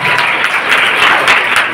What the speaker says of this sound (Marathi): पावभाजीचं नाव घेतल्यानंतर बऱ्याच मुलांनी टाळ्या वाजल्या